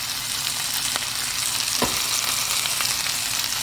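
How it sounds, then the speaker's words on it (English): Onions sizzle steadily in a pan over medium-high heat, a continuous close frying hiss with a few faint clicks of stirring, no voices. "Let that fry and mix it up."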